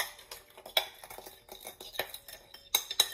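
A utensil stirs chicken nugget mixture in a bowl, giving quiet irregular clinks and taps of metal against the dish with short scraping strokes between them.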